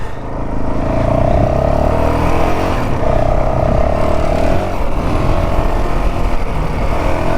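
A KTM 890 motorcycle ridden hard off-road, engine revving loud and steady with rising and falling pitch through clutchless shifts, close by throughout.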